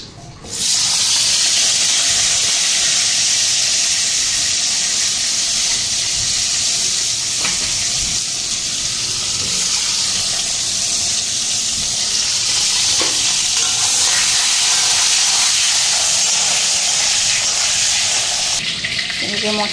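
Potatoes dropped into fish oil left from frying eggplant, a loud, steady sizzle and hiss that runs on without a break, with faint stirring clatter underneath.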